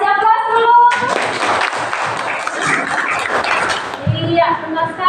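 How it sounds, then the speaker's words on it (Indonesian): A classroom of students bursts into a few seconds of dense group clapping for a classmate's answer, bracketed by a teacher's voice speaking just before and after. "Oke, kasih aplaus dulu."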